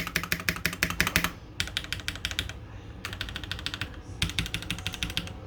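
Typing on an Epomaker EP84 keyboard fitted with stock Gateron Yellow switches: rapid, steady bursts of keystroke clacks in several runs with brief pauses, close and clear over a faint background hum.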